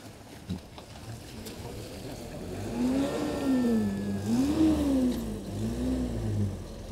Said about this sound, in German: Jetzt kommt erstmal ein Auto.